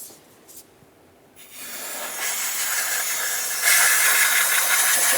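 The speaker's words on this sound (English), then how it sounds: "we're going to continue on with some air, and we're going to try to blow off any debris that's in this area" Compressed air blasts debris away around the throttle body of a Toyota RAV4 engine, a loud sustained hiss that starts after a short quiet pause and grows stronger near the end.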